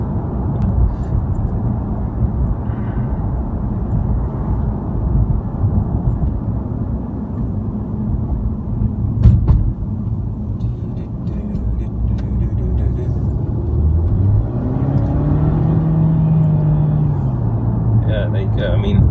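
A Mercedes-Benz W204 C180 engine, fitted with a RaceChip XLR and in sport mode, hums and rises steadily under road rumble, with the pitch climbing then dropping as gears shift automatically; a voice talks over it.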